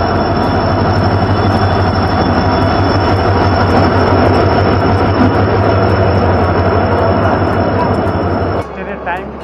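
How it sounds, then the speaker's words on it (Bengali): A passenger train pulls into a station platform at night, its loud, continuous rumble and rolling wheel noise close by, with faint squeals, before the sound drops off sharply near the end; voices can be heard under it. "চলে এসেছে আমাদের ট্রেন।"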